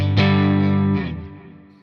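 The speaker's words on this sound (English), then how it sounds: "There's definitely more of a Fendery chimeness to the Tone King" An electric guitar plays through a Tone King amp capture on a Quad Cortex, with a single strummed chord ringing out loud and full, briefly restruck and then decaying into silence.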